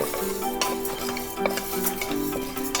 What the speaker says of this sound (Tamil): ஸோ நல்ல வாசனை வர வரைக்கும் ரோஸ்ட் பண்ணிக்கலாம்.